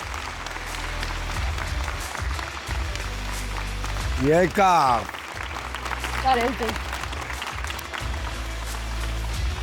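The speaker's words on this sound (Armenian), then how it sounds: "ծափարություններով դիմավորում ենք։" A studio audience of the game show Arm Games applauds to welcome the host, a rough, steady patter of clapping with short bursts of talk over it.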